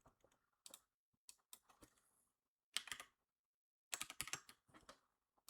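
Bursts of typing on a computer keyboard, rapid key clatters in several short runs separated by silent pauses, close and clear with no talking.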